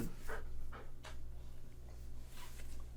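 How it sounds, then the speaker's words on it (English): A dog pants in quick, steady breaths, with several rhythmic bursts heard close up over a constant low hum at an outdoor protest gathering. "Look at this doggy."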